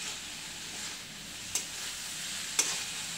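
Koral bhaji, wild greens, gets stirred in a pan over a soft continuous sizzle, with two brief scraping clinks of the utensil against the pan.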